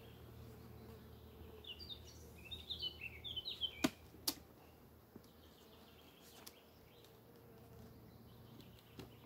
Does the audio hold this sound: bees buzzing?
yes